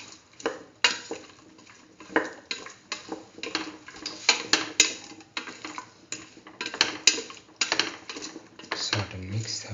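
Rice being stirred and mixed with tomato chili sauce in a pan for a cauliflower chayote rice dish, heard as close, irregular scraping and clicking of a utensil against the pan, steady throughout with soft rustling between strokes.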